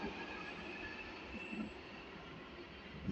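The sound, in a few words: London Underground Jubilee Line tube train departing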